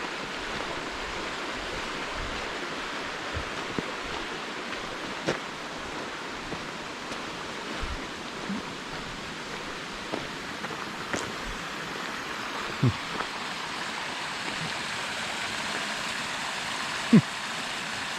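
A small waterfall spills into a pool along a countryside walking trail, a soft, steady rush of water heard from a short distance, with a few faint knocks and footstep-like ticks scattered through.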